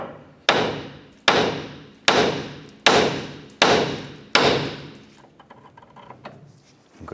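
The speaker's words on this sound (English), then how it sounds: "you want to use a hammer and strike the knuckle here" Five sharp, evenly spaced hammer blows ring out against the steering knuckle of a 1994-2004 Chevrolet S10 to pop the outer tie rod end loose, each a loud metallic strike with a short decay, followed by quieter handling noises.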